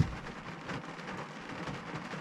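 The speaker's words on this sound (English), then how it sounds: "I'm already in the truck, it's raining." Rain patters steadily on the roof of a truck, heard from inside the cab as an even, continuous hiss and drumming at moderate volume.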